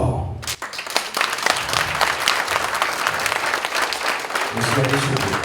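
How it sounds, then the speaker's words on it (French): A room of guests at a surprise party for a father breaks into applause after a moment of quiet, then keeps clapping loudly and steadily until the end, with a low murmur of voices underneath. "Est-ce qu'on peut l'applaudir encore, s'il vous plaît?"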